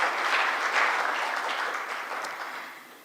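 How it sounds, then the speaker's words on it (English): An audience at a justice administration launch event gives a round of applause, dense and fairly close, holding steady and then tapering off toward the end. "I believe she deserves another round of applause."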